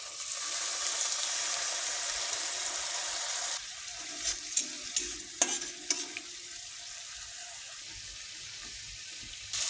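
Turmeric and chili powder frying in a pan with a splash of water give a loud, dense sizzle that cuts off abruptly, leaving a quieter simmer broken by a few sharp stirring clinks.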